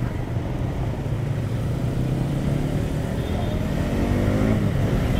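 A Bajaj NS200 BS6 motorcycle rides through traffic near a mall, its engine a steady droning hum with road and wind noise and a slight rise in revs near the end.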